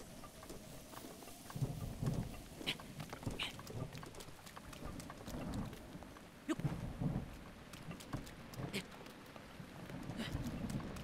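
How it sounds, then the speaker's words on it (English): Rain falls steadily during a thunderstorm in The Legend of Zelda: Breath of the Wild, with low rumbling thunder swells and sharp crackles scattered through, someone talking over it throughout. "Is that a thunderstorm just when I was starting to climb?"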